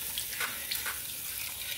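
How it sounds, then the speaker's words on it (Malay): Water poured into a pot while cooking Malaysian soy sauce chicken, ayam masak kicap, a close continuous trickling splash with slight surges, steady for under two seconds without voices. "Masuk ke air sikit lah. Kita masuk air kita ni, biar dia betul-betul masuk."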